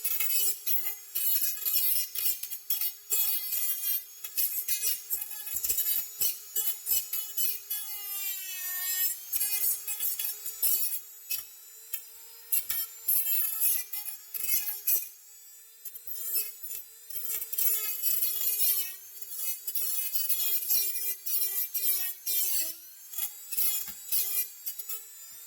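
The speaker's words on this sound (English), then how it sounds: "go back with the Dremel and just nick this, and you can get all your ends cleaned up" A Dremel rotary tool trimming the ends of an aftermarket gauge panel in a Chevy squarebody truck, a close, piercing high whine cut into repeated grinding bursts as the pitch dips and recovers under load.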